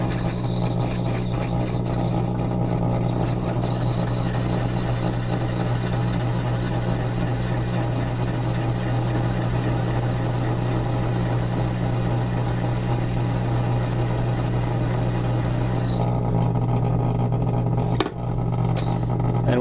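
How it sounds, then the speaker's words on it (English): A rotary sharpening wheel with a coarse stone grinds a facet on a hand engraving graver, a steady continuous whirring drone with a constant high tone that runs loud and unbroken for most of the clip before cutting off near the end. "we're going to be using the rotary sharpening wheel for that."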